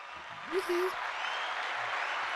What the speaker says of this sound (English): You give it a ye old hand clap.